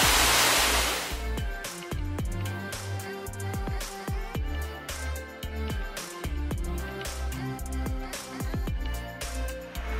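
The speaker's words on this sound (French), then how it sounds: "La cascade est là." A waterfall in Guadeloupe, its steady rush loudest in the first second, with tonal clattering and ringing sounds layered over the water throughout.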